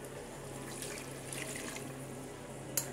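Water is poured into a cooking pot for mutton, a soft, steady splashing stream heard quietly and close, with a small clink near the end and no talking.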